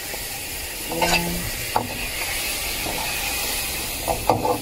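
Steady frying sizzle of chicken in a hot pan, with a few brief clatters and a short spoken word over it.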